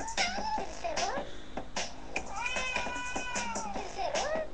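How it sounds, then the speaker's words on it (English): A cat meows repeatedly in a series of short rising and falling calls mixed with clicks, close and clear, while a person talks between the meows. "I like kitties a lot, but I really like it when they talk."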